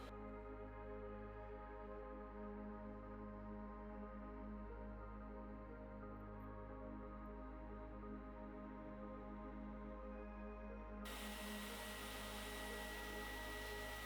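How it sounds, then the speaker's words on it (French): Air compressor driving a paint spray gun loaded with glitter, a continuous steady motor hum with a tonal drone, joined near the end by a bright hissing spray burst, close and sustained, nobody speaking. "une machine en fait qui est un compresseur avec un pistolet à peinture"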